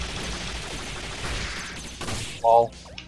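Video game gunshots in the side-scrolling action game Iconoclasts, a rough crackling barrage that swells and then pops with a short tonal burst near the end, heard alone without talk.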